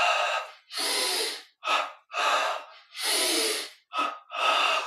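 Loud, close breaths during a guided yoga session, with forceful inhales and exhales alternating in a steady rhythm of about eight breaths, some long and some short, with no speech.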